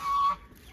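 A goose or duck at a farm gives a single loud honking call, near and clear, then fades into quiet background.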